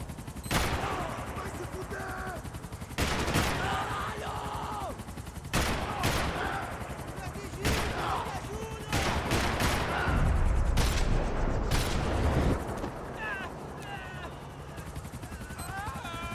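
In Max Payne 3, repeated bursts of automatic gunfire crack out in sharp volleys over a low rumble, with shouted voices between the shots.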